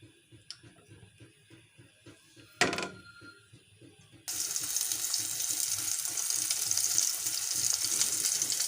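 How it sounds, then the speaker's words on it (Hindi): An egg omelet with tomato slices in a frying pan: quiet clinks and one brief hiss at first, then a sudden loud, bright, continuous sizzle that holds steady to the end. "एक आध मिनट फ्राई होने के बाद हम इनकी साइडों को चेंज कर देंगे।"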